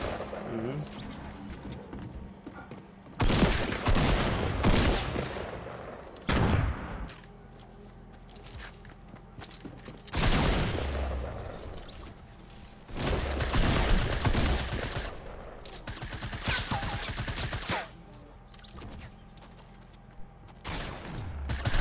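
Bursts of gunfire in Fortnite Battle Royale, with rapid volleys coming in several loud clusters separated by quieter gaps, layered over game sounds and occasional player chatter.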